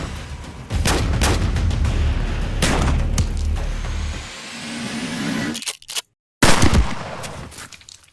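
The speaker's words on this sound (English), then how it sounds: "This was essentially just an excuse to have lots of gunshots and explosions in a short film." Gunshots and explosions staged for a Breaking Bad short film: a burst of loud, sharp cracks and booming blasts, then a rumbling explosion that fades, a brief silence, and another heavy hit, all without talk.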